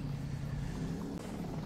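A helicopter in the video game Ghost Recon Wildlands gives off a short, steady low rumble that stays even throughout.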